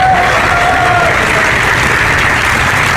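Studio audience clapping on a comedy show set, a dense, steady burst of loud applause from a full crowd lasting throughout, with faint cheering mixed in.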